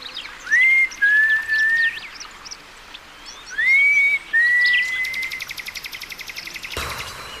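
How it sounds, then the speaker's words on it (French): A person whistles in a forest to call the others: two pairs of clear, rising two-note whistles, loud and close, separated by a pause, then a quieter fluttering pulse near the end. "Je vais siffler pour les appeler."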